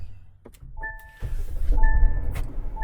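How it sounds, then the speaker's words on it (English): A car engine cranks and catches as the starter motor fires. A few thunks and chime-like tones come first, then a low engine rumble rises and holds steady, close by. "Now let's start the car."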